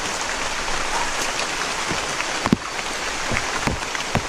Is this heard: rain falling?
yes